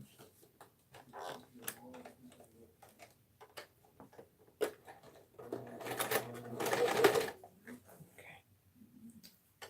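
A sewing machine with its thread caught runs in uneven, rough bursts, growing louder and more labored near the middle before stopping, with a voice speaking around it and scattered clicks.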